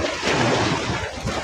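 Sea surf along the rocky riprap shoreline at Balatan, Camarines Sur, a steady, loud wash of waves mixed with wind rumble on the microphone, with no voices.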